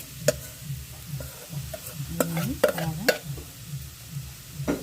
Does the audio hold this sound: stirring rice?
yes